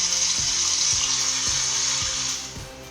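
Water hisses steadily and loudly from a tap, a bright continuous wash recorded on a TP-Link Neffos C5 Max phone, with faint rhythmic low knocks underneath and the hiss easing slightly near the end.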